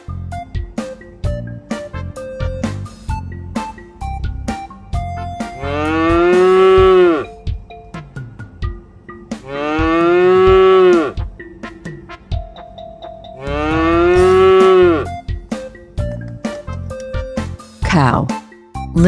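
A cow moos three times in long, loud, drawn-out calls spaced evenly through a children's farm-house song, with busy music and sung words running beneath.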